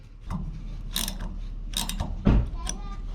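Clanking, ratcheting mechanical handling while an incorrect air fitting is removed from a rear air bag on a 1977 Datsun 620, irregular metallic clicks and scrapes up close with a sharper knock near the end.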